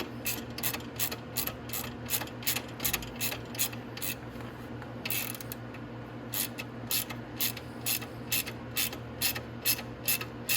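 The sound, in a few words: ratchet loosening stiff bolts on motorcycle oil cooler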